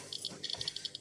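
A dosimeter checking a sample of coloured optical glass gives a quick, irregular run of faint, sharp clicks, about a dozen within a second.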